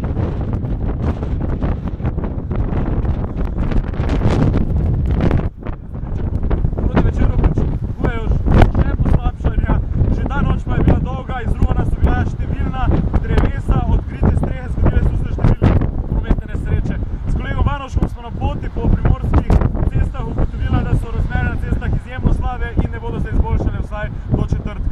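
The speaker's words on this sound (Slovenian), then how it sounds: "Ali ste tukaj pri vas vajeni takšnega vremena, takšnih sunkov, burje, snega in mrazu?" Hurricane-force bora gusts roar and batter the microphone nonstop, with a loud, turbulent rumble that rises and falls as people talk beneath it.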